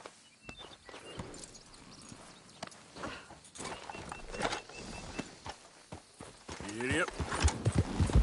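Horse hooves clop along at a walking pace on a ridden horse, faint and uneven, with a few spoken words and quiet conversation over the steps.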